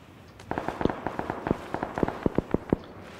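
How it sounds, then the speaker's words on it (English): Distant gunfire in PlayerUnknown's Battlegrounds: a quick irregular series of about a dozen sharp cracks, some clustered in pairs, fairly faint and far off over a low background hush. "shots are pretty distant right now at the church area"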